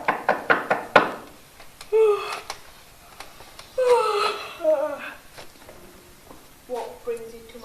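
Sharp knocks rap on a priest's house door at dawn, a quick cluster of blows followed by voices speaking up close.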